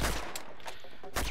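Scattered gunshots in Uncharted: Among Thieves during an urban warfare chapter, a few sharp cracks spaced over a second against steady background game noise.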